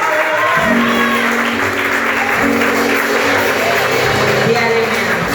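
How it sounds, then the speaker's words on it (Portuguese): Continuous clapping from a church congregation fills the space, a steady crowd applause mixed with voices and faint musical tones. "Aplauda com vontade."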